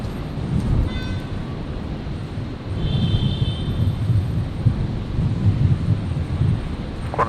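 An airliner lands on runway 01 left at Brisbane Airport, giving a steady, loud roar with broad rushing noise that swells slightly midway and holds throughout.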